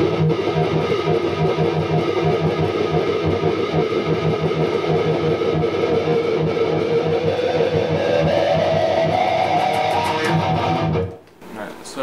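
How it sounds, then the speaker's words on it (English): Distorted electric guitar chord swelled through a wah pedal, the sweep slowly rising over a sustained, loud, buzzing tone before cutting off abruptly near the end, for a thrash metal song intro. "I like to start it off with a wah pedal."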